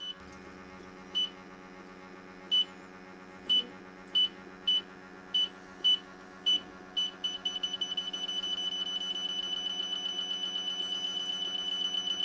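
A D-TEK Pro refrigerant leak detector is passed over a coil, giving spaced single beeps that quicken and merge into a rapid, steady pulsing alarm as it nears the leak, loud and alone.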